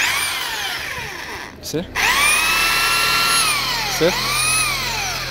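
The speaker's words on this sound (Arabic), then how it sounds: "تنديرو الراس ديال السلك في الشنيور ديالنا اولا الفيسوز ديالنا، وتنبداو نفتلو" A power drill twists wire held in its chuck, a loud high whine that spins up, cuts out briefly and restarts, with someone speaking over it.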